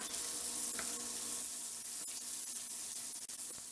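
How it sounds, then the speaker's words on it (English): Bacon sizzles steadily in butter in a pan over medium heat, a continuous close hiss with small crackles and pops throughout, no voices. "let's get this bacon in the pan and get this frying up"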